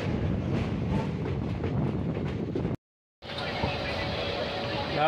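Train rumble and rail noise from a line below, on the Hyderabad-Nanded route, steady and fairly loud with a brief silent gap midway, as if heard from a moving Ajanta Express.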